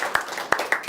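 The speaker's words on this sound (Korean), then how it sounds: "네, 박수." A few separate handclaps from a small lecture audience, four sharp claps spaced irregularly across a moment, fairly close and distinct rather than a full wave of applause.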